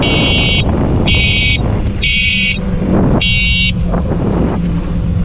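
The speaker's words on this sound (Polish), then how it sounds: "ma klakson." A vehicle horn honks four times in short, evenly spaced beeps over steady road and engine noise, close by.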